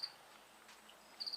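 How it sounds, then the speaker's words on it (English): A cricket chirping inside a machinery shop, faint high trills at the start and again near the end, with quiet room noise between. "stupid crickets. I've seen a cricket here in my shop. That's probably the one that's squealing back there now."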